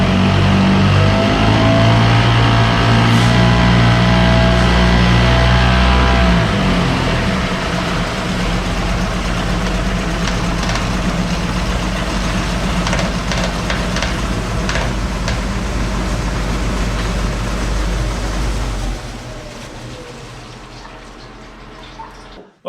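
An outboard motor runs in gear in an indoor test tank, its engine a loud steady drone with churning water, easing down near the end and stopping abruptly.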